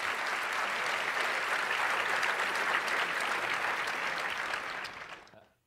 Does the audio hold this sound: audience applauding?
yes